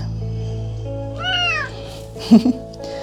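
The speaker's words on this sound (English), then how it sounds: "maybe you've heard his meows" A single drawn-out cat meow rising and falling, close by, over a steady low hum, followed by a couple of faint muffled sounds.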